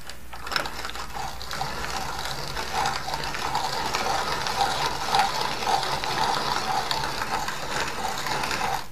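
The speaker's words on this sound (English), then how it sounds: "It takes several cranks to get some flour, but as you can see, it is nicely ground" A hand-cranked grain mill grinds hard red wheat berries into flour, giving a steady, close gritty crunching and ratcheting rasp that runs continuously at an even level with no talking.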